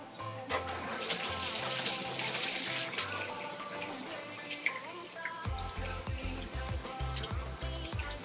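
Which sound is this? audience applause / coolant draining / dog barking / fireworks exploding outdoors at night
coolant draining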